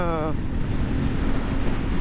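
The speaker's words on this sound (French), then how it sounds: "normalement le vent vous l'entendez" Heavy, constant wind buffeting from riding a motorcycle roars across the microphone with a deep rumble, while a voice briefly speaks at the start.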